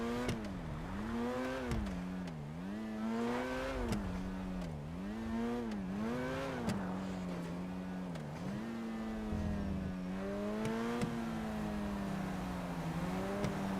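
Engine of a car in a video game, revving up and dropping back in repeated waves as the gears shift, a continuous close drone with no voices over it.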